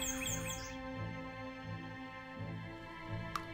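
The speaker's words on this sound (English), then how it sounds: "I like the birds chirping." Birds chirp in a forest scene of a hidden-object adventure game, with quick high tweets near the start over a low droning ambient music bed and a sharp click near the end.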